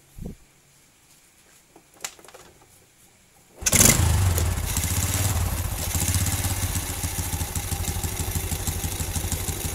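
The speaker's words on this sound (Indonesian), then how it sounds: "Kita akan coba hidupkan motornya dan langsung kita akan setel." A Honda Revo motorcycle engine with a standard carburetor stays quiet through a couple of faint clicks, then fires up at about four seconds and settles into a loud, steady idle close by that holds to the end.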